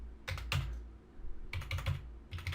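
Keys tapped on a computer keyboard to enter a number, three short bursts of quick clicking keystrokes with brief pauses between, close and fairly quiet, no voice.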